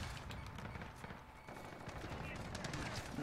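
Continuous rattling automatic gunfire in a shooter game, dense overlapping shots of moderate loudness with battle noise throughout.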